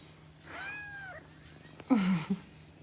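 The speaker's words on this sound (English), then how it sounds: "Is that your cat?" A cat gives two distinct meows indoors, a drawn-out rising-falling call followed by a louder, sharper one, close and clear with near silence around them.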